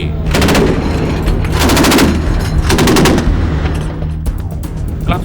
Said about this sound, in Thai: เพื่อฝึกยิงปืนใหญ่และปืนกลเรือในทะเล